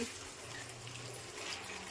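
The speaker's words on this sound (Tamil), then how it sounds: "இதில் கொஞ்சம் தண்ணி ஊற்றிக்கணும். நல்லா தண்ணி ஊற்றி" Water poured into a bowl of puffed rice to soak it, a soft steady running and splashing wash held at a constant level throughout.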